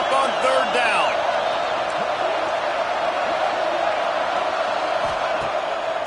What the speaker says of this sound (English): Crowd getting this defense whipped up on 3rd down.